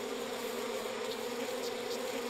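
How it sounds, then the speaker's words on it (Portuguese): Killer bees swarming in the video game We Happy Few, a steady, dense buzzing drone that hangs in the background at a faint, even level with no talk over it. "Meu Deus, tem abelhas assassinas aqui."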